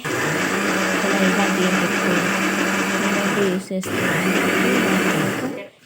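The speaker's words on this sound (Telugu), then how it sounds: "ఈ మొత్తం వేసేసిన తర్వాత మిక్సీ పట్టుకోవాలి" A mixer grinder blends a hair pack, whirring loudly and continuously, pausing for a moment partway before running again and winding down at the end.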